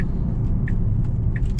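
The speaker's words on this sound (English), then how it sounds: "Yes, there's a bit of tire noise." Steady low road rumble of tire noise inside a moving 2014 Tesla Model S, with a couple of faint high squeaks from interior plastic trim over the continuous drone.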